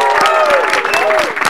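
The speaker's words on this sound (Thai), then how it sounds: "ขอเสียงปรบมือ" Applause from a crowd in a Thai TV drama, short and lively, with voices and cheering mixed over the clapping.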